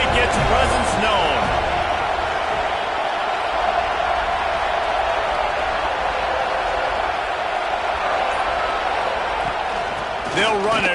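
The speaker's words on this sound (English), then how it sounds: "This crowd ready to make its presence known." A college football stadium crowd at a Florida versus Florida State game gives a loud, continuous roar throughout, with a commentator's voice heard over it at the start and end.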